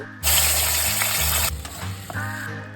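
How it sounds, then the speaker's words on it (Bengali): A paste of ginger, cumin and chili, with black cumin tempering, hits hot oil in a wok and bursts into a loud, close sizzle that drops after about a second, then softer frying with stirring clicks. "এই যেটা এখন ফ্রাই হচ্ছে"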